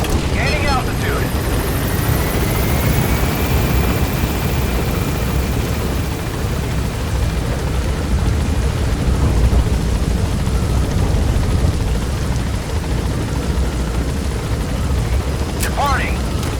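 An extraction helicopter climbs in Metal Gear Solid V: The Phantom Pain, its steady rotor roar and engine rumble filling the scene at constant loudness, with a voice speaking briefly over it.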